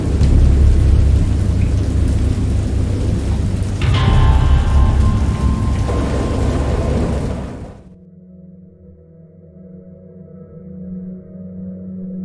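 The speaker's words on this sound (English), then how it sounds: "I heard pearls of thunder and other tones which nature utters only in her wildest moods" Video game thunderstorm in Dagon: heavy, steady rain pours with deep rumbles of thunder, then the downpour cuts off abruptly, leaving a low, quieter hum.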